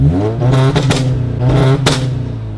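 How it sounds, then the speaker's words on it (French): An 800 hp Golf 5 GTI idles loudly up close with a throbbing exhaust rumble, broken by a few sharp pops and crackles from the tailpipe, with no talk. "Petit pop, il y a un petit pop quand même hein."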